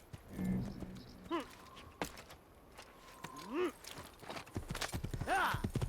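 A horse's hooves clip-clop in Assassin's Creed, a string of hollow hoof knocks at a walking pace, joined by a couple of whinnies or calls over quiet game ambience.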